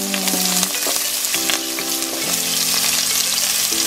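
Onion frying in a hot pan for shrimp egg fried rice, a loud dense sizzle with scraping stirs and utensil clinks up close, no voices.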